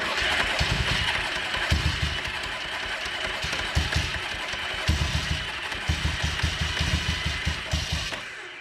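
A Yamaha XS650 motorcycle engine cranks in repeated low chugging bursts, briefly catching and sputtering on its first start, loud and close, with no speech over it.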